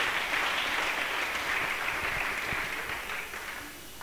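A church congregation applauding during a service: a dense, even wash of clapping from many hands that thins and fades over the last second.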